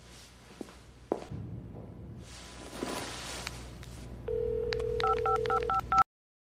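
A telephone number is dialed on a quiet line: a steady dial tone starts, then a quick run of keypad beeps follows, after faint rustling and footsteps.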